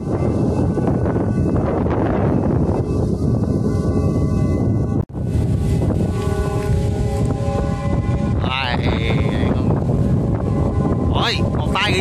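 Strong gusty wind roars and buffets the microphone while a kite is flown, a loud continuous rush with a brief cutout midway and a few whistling tones near the end.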